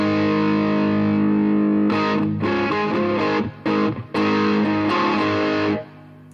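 Electric guitar played through a Suhr Shiba Drive overdrive pedal with its smooth switch set to the right, giving loud, sustained distorted chords and ringing notes, with brief gaps between phrases and a fading tail at the end.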